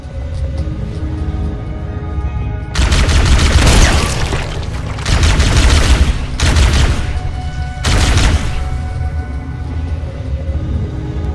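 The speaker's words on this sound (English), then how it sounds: "Someone had a shotgun." Shotgun fire in Halo Anniversary, four heavy booming bursts with roaring broadband tails, spaced a second or two apart over a steady game background hum, with no one speaking.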